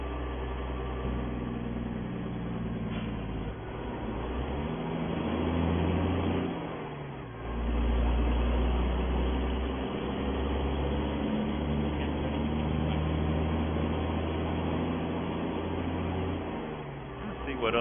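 The engine of a Kenworth W900B heavy wrecker truck in a driving video game drones steadily, with a low rumble that swells and eases as it revs. The sound is continuous and fairly loud.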